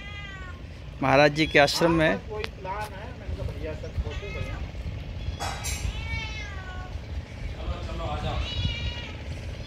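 A cat meows a few times in short cries while people talk nearby at moderate volume.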